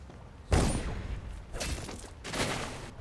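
A gunshot rings out in Dishonored, a sharp loud crack followed by two more bursts of noisy impacts, with quiet gaps between them.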